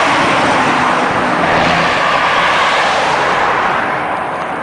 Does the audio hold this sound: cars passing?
yes